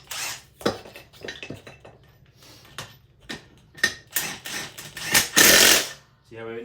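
Air hisses out of a tire as a BeadBuster bead breaker is cranked down, a short strong hiss among sharp metallic clanks and knocks from the tool, with a person talking throughout.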